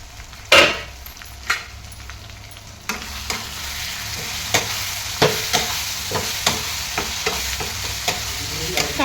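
Onion frying in a covered pan for a yellow potato dish, with a steady sizzle under a series of sharp clanks and scrapes from stirring, spaced irregularly and growing more frequent; no talk.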